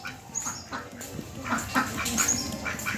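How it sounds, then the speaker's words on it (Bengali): A flock of farm ducks returns home at dusk, giving scattered quacks and honking calls at close to middle distance, mixed with other faint farmyard noises. "এই যে হাঁস আসছে"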